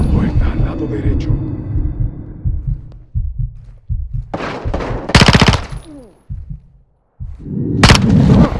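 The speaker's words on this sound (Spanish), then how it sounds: "Fíjate dónde disparas." Automatic gunfire from the Call of Duty Modern Warfare 2 campaign in Mexico rattles in several loud bursts, close and harsh, mixed with shouted voices and brief quiet gaps between the volleys.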